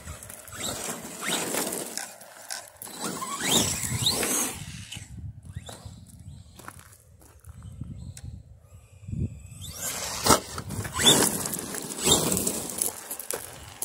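A Big Rock RC truck drives across grass, its small electric motor giving off a buzzy, whining hum. The sound surges and fades as the truck speeds up and passes.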